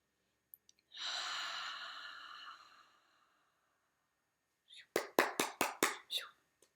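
A long, audible exhale of a deep breath drifts out close by, followed after a pause by a quick burst of short puffs or taps.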